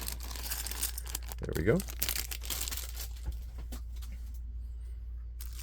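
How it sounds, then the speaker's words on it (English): A loud plastic bag of pieces from the Lego Happy Plants set 10349 is torn open, giving a short burst of crinkling and tearing, followed by a brief spoken remark and quieter rustling. "Let's open this loud plastic bag."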